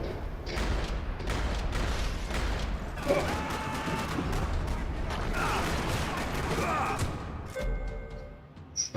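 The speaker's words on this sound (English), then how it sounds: "Another parking lot rattling with gunfire." Gunfire rattling through a parking lot in the Max Payne video game, with sustained bursts of shots and impacts across the whole stretch, dense and loud, dipping briefly near the end.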